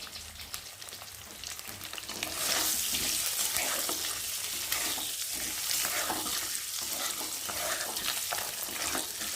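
Raw mango pieces fry in oil in a pan, sizzling and crackling steadily, starting quieter and then swelling into a loud, continuous hiss after a couple of seconds, with no voices.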